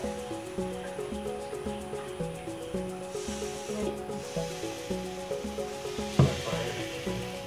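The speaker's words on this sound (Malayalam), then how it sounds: "ഇനി 2 കറി മാവ് ഈ ചട്ടിയിലേക്ക് ഒഴിച്ച്" Rice batter for vellayappam is poured into a hot pan and sizzles softly, with scraping and stirring noises and a sharp clink near the end. A steady rhythmic musical beat plays underneath.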